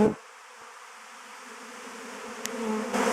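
A swarm of honey bees settles and clusters onto another hive at an apiary, giving a continuous, dense buzzing hum that holds steady and swells slightly toward the end, with no talking.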